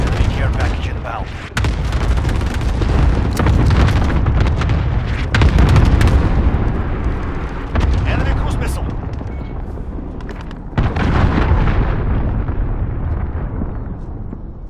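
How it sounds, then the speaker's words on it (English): A cluster strike in Call of Duty: Modern Warfare sets off a chain of loud, booming explosions that roll on for several seconds, punctuated by brief gaps, with battlefield announcer voices heard over the blasts. "Allied cluster strike incoming."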